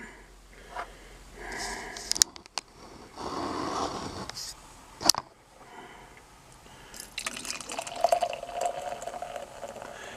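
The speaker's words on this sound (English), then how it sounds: "Kind of a vigorous pour." Beer poured vigorously into a tulip glass, a Trillium Brewery Deciduous, gives a close, liquid pouring and fizzing rush in bursts, with a couple of sharp clinks between pours and no talk over it.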